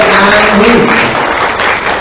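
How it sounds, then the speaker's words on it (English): Audience clapping for a class at a 3rd and 4th grade end-of-year school award ceremony: a loud, steady wash of many hands filling the whole stretch, with faint voices mixed underneath. "a round of applause for their outstanding work"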